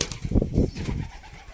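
Pigeons at their nest on a farm make a short burst of low soft cooing and fluttering, close by and moderately loud, fading out within about a second.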